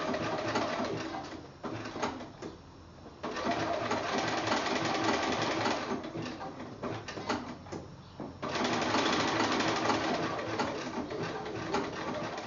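A sewing machine stitches a kiwi appliqué onto a quilt block, its motor running in steady bursts that stop and restart as the fabric is turned, close and fairly loud.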